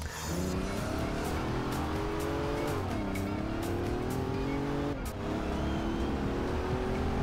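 A Ford Capri driving in the racing game Forza Horizon 2, its engine droning steadily and loudly with rising and falling revs through gear changes, with no talk over it.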